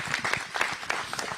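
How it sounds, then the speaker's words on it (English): A holiday celebration audience claps for the shop's employees in a short, fairly loud burst of mixed handclaps. "Can I get a round of applause for all the employees at Unity Shop?"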